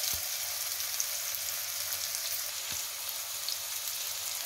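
Two chopped onions frying in hot oil in a pan, a steady close sizzle and crackle throughout with a couple of faint knocks from stirring.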